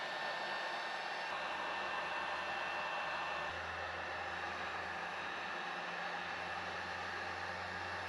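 Heat gun running on a low setting to warm and loosen the adhesive on an MK8 GTI car fender, a steady close blowing whoosh that holds for several seconds, with no talking.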